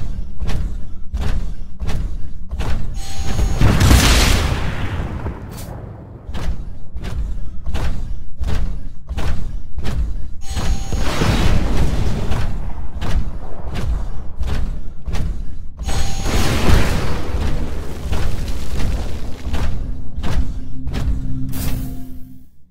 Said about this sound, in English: Move down the hallway while avoiding the rockets.